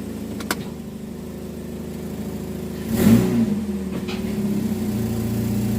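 A Chevy HHR's engine idles steadily after a transmission filter replacement, then swells briefly as the car is shifted into reverse and moves, before settling back into a continuous mid-pitched hum.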